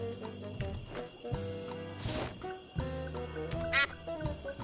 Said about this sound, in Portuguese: No! Go away, you stupid duck!